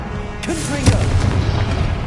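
A Confringo blasting spell goes off in a video game as a deep, rumbling boom that swells partway through and lingers, heard alongside a voice calling out.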